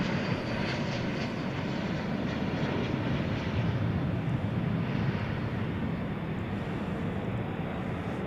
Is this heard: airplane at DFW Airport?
yes